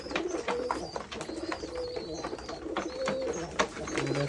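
Domestic black-and-white pigeons coo repeatedly at a small pigeon farm, their soft throaty calls overlapping close by against light background noise.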